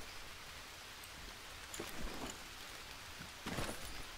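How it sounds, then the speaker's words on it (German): Rain falling in the jungle survival video game Green Hell, a soft, constant hiss with a few louder crackling bursts, faint and without any voices. "Guck mal, es regnet gerade."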